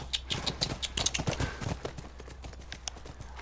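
Horse hooves clip-clop in The Last of Us, a quick series of nearby hoofbeats that are loudest at first and grow softer and sparser toward the end, with no speech.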